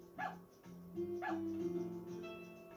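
Stray dogs in the Harvest Moon: Another Wonderful Life video game give short, clipped yips and barks, two clear bursts over a soft, tonal game-music backdrop.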